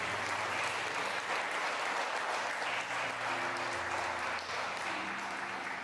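Congregation applause in church offered for Jesus during a sermon, a continuous wash of clapping at moderate level with soft organ or keyboard tones sustained beneath.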